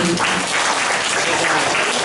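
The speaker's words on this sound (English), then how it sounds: "Participants, a big round of applause for them too." Audience applause for participants at a junior school reading competition, a steady broadband wash of clapping that stays loud and even throughout.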